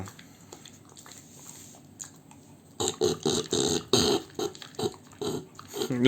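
An American Bully dog eats a late-night meal. After a quiet start comes loud, close, wet chewing: smacking and crunching bursts in an uneven rhythm that continue to the end.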